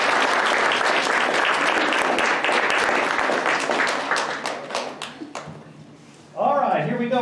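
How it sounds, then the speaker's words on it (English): Parents at a 2018 Claymont school spelling bee applaud the contestants, a dense, loud burst of clapping that thins out and fades before a voice starts speaking at the end. "can we give all of them a round of applause?"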